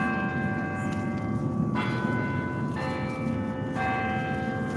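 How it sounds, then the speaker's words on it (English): Church bells ring out in a steady, sustained peal across a city street, their tones layered and sounding over a constant low rumble of outdoor ambience with no talking. "There's the bells announcing we're here."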